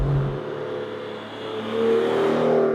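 An Aston Martin Vanquish Volante engine revs and roars steadily, its pitch rising and swelling louder toward the end, with no voices.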